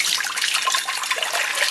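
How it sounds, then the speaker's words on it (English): Water poured into a pot to make brine for pickled mustard greens, a steady close hissing splash running unbroken throughout with no talk. "I'm gonna use this much water. I'm gonna pour it into a pot"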